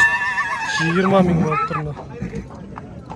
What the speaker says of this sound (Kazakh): Байланып алынған аттардан сіздерге көрсетіп кетейін